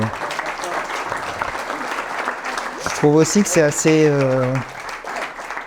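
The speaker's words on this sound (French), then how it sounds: "on peut l'applaudir" Audience applause at a French talk on digital technology and conscience, a steady crackle of many hands filling the background while someone speaks over it, with a sung or tonal voice surfacing briefly near the end.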